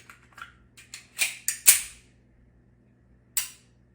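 Pistol shots crack during a firearm drill, a quick string of sharp reports building in loudness, then a pause and one final isolated shot, with no talking over them.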